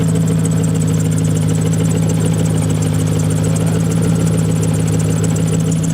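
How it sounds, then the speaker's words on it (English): A drift car's engine idles steadily at close range in cold weather, a constant low hum and drone with a faint whirring pulley-like whine running through it, no talk. "The car is making a funny noise. Sounds like a pulley."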